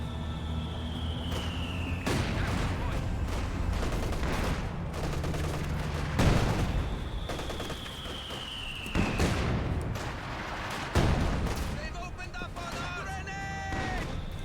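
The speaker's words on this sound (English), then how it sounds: "MG-34 trying to get some good suppression there" MG-34 machine gun fire in Company of Heroes 2 battle, sustained bursts of automatic fire with scattered explosions and other battle noise, while a commentator talks over it throughout.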